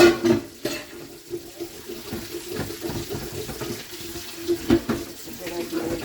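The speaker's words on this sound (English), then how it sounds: "I gotta wash this pan." Tap water runs into a sink while a pan is washed, a close splashing stream with intermittent clinks and scrapes of the pan, faint and uneven, with brief speech.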